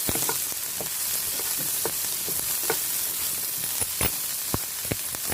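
Cauliflower frying in butter alone in a pan, a steady, close, loud sizzle and hiss with occasional stirring clicks and scrapes, no voices.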